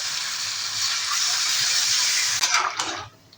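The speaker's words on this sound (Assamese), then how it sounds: "এতিয়া মই গৰম পানী দি দিম ইয়াতে" A loud, steady hiss of hot water streams into a pot of fish curry with taro root, then cuts off with a few brief splashes and clanks near the end.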